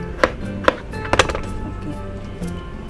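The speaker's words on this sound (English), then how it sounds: "Okay, I'm cutting tomatoes." Knife chopping through tomatoes on a cutting board while preparing spicy chilli tofu in a home kitchen: a handful of crisp, close chops, irregularly spaced, with a quiet gap in the middle.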